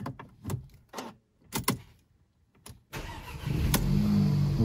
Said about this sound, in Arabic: فوالا دارت السيارة